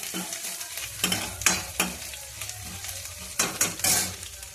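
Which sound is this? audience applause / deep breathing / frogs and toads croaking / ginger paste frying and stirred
ginger paste frying and stirred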